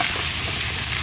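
Pumpkin curry fries in hot oil with black cumin, green chilli and hing, a loud continuous sizzle heard up close as the pan is stirred.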